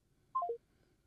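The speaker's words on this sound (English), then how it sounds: "I'm finna hang up and call you back" Three short telephone dialing tones sound in quick succession, each a little lower in pitch than the last, clear and alone against near silence.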